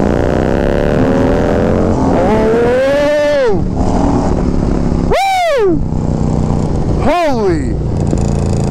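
A Harley-Davidson motorcycle with a 135 engine accelerating, loud and close, its engine note rising in a long climbing rev and then two shorter sharp surges, with a steady engine drone between them.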